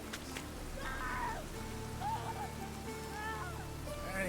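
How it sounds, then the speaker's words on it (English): Steady rain in the video game The Witcher 3: Wild Hunt hisses and patters continuously throughout, with a few short tonal calls rising briefly above the wet wash. "And it's raining again."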